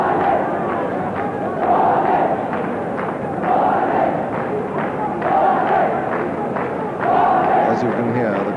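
Large cricket crowd at Sharjah during a Pakistan v New Zealand semi-final, chanting in rhythmic surges that swell roughly every two seconds over a constant loud roar.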